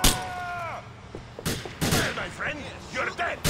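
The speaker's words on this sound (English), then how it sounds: "Who's shooting at me? Who's shooting?" Gunfire bursts in Grand Theft Auto IV, a few sharp, loud shots and volleys with game sounds between them, while a voice talks over the action.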